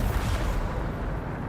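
A Bombarda blast spell cast in Hogwarts Legacy makes a loud, dense, rumbling boom that fills the short moment and holds steady without a clear decay.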